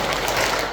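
Congregation clapping in unison at a Catholic prayer and preaching gathering, a dense, steady wash of hands filling the room for a brief moment with no talk over it.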